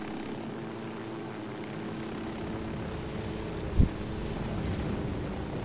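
Helicopter coming in to land in Ghost Recon Wildlands, a steady droning engine and rotor hum throughout, with one brief thump partway through.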